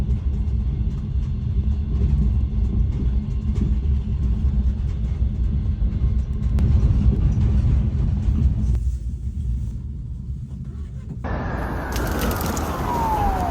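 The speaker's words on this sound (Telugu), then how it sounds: "ట్రైన్ మెల్లమెల్లగా స్టార్ట్ అయింది." A train starts slowly and rolls along with a continuous low rumble and rattling, loud and close as if heard from inside the carriage, with a brief quieter stretch before a high squeal near the end.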